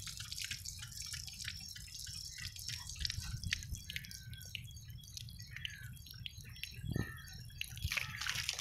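Water drips and trickles after being drawn from a small, clear village well in Haryana, with scattered close taps and splashes over a steady low background rumble, a brief louder splash near the end, no talking.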